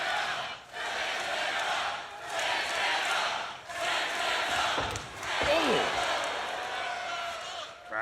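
Wrestling crowd at a TNA Impact event in North Carolina cheering for Mike Santana, a loud, dense roar that swells and dips in waves, with a ring thud midway and commentary voices underneath.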